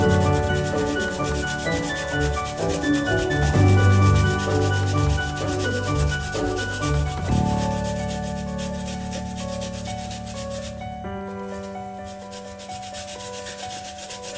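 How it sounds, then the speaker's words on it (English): Ginger grated on the finest grater, a steady close rasping scrape in continuous rhythmic strokes that slows and thins toward the end, with no talk. "Using the finest grater."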